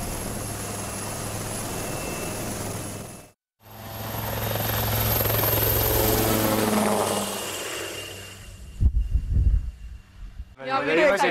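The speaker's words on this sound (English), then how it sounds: "First ride in the helicopter." An army helicopter flies with a steady, loud rotor and engine roar, briefly cut off and then resuming, fading toward the end as heavier thumps and knocks take over.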